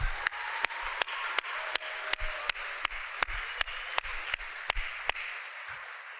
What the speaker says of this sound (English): Let's give all of our students another round of applause.